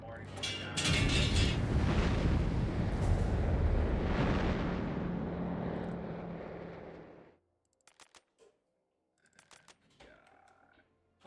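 Artillery bombardment in a strategy video game, a loud sustained rumble of blasts lasting several seconds and then cutting off, followed by sparse keyboard clicks.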